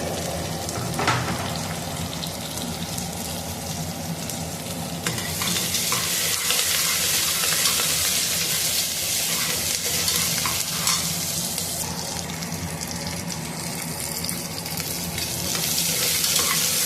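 Green chillies and curry leaves fry in a pan for a mint mutton dish, giving a loud, continuous sizzle with steady stirring scrapes throughout.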